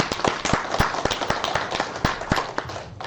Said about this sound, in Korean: 지부장님께 큰 박수 부탁드립니다.